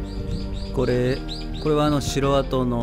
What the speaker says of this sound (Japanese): もうこの鳥の声もいいですよね